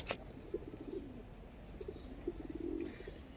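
Silver-coloured domestic pigeons at a pigeon seller's give soft repeated coos over a low background hum, fairly faint and close, with no talking.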